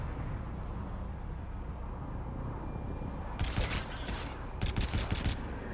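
Bursts of rapid gunfire in Call of Duty: Infinite Warfare, two short sharp volleys arriving after a stretch of low rumbling background, fairly close and loud against the ambient hum.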